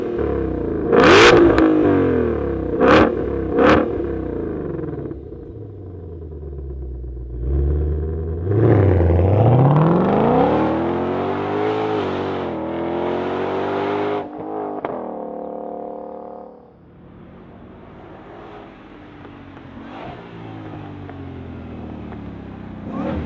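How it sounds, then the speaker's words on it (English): A supercharged S550 Ford Shelby GT500 Mustang starts with sharp loud blips, then revs up in rising, climbing sweeps close by before settling to a lower idle rumble. "I want to give you a little eargasm with this Mustang GT500."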